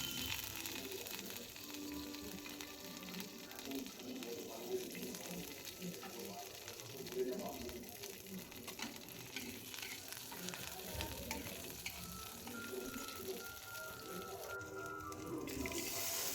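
Black mustard seeds, curry leaves and green chili sizzle in hot ghee as a steady frying crackle and hiss that fills the clip at a fairly low level, with faint clatter and no clear speech.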